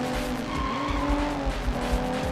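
A car in the video game Sleeping Dogs speeds up during a chase, its engine loud and steady while the tires squeal and skid in drawn-out streaks, with no talking.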